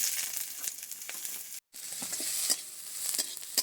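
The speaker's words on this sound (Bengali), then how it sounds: "পেঁয়াজটাকে হালকা করে একটু নেড়ে চেড়ে নিয়েছি।" Chopped onion stirred and fried in hot oil in a pan, a steady bright sizzle with scraping spatula strokes, close and continuous apart from a brief silent gap.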